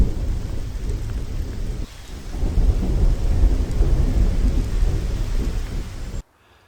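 Steady heavy rain pours with a deep rumble of thunder rolling underneath, loud and continuous before abruptly cutting off.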